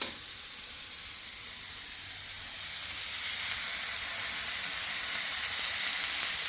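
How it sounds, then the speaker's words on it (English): Broccolini sears on a lidded barbecue grill, a steady soft sizzle and hiss that builds gradually after the first couple of seconds and carries on evenly to the end. "Now we're going to do the broccolini. We just sear that on the barbecue."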